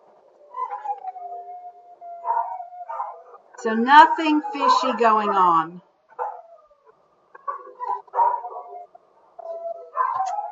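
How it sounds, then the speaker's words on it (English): Several dogs howl and yip indoors at moderate distance, the long wavering howls rising and falling in bursts over about ten seconds, mixed with a person talking. "Oh, my dogs are howling."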